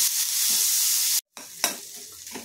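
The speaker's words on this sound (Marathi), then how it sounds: "कांदा छान गुलाबी परतला जातोय" Finely chopped onion sautéing in a pan until pink, a loud, continuous close-up sizzle interrupted by a brief silent cut, then a sharp stirring scrape as frying resumes.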